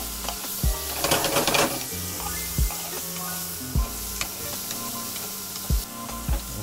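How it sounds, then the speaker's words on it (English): Beef sautéing in a pan for a beef stroganoff, with a steady low sizzle and occasional clunks of stirring against the pan over a background hum. "we'll lightly saute that off until we get a little bit of colour"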